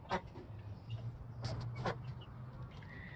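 Ducks and chickens settle in a backyard coop, a few soft, faint honking quacks and clucks sounding intermittently against a quiet, low background.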